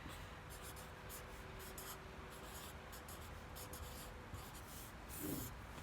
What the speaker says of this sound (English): I'm going to write down the powerful verbs I used in my story